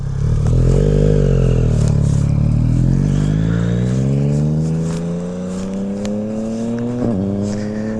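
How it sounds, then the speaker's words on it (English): A Zero electric motorcycle ridden on the road, its motor giving a loud, rising whine that climbs steadily in pitch as it speeds up, with wind rumble and some clatter close by. "I like the bike noise"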